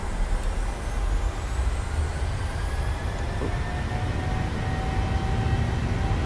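PMDG 737 jet engines spooling up for takeoff in Microsoft Flight Simulator 2020, a loud steady roar with a slowly rising whine, continuous and alone.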